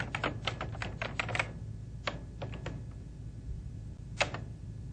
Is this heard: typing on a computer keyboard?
yes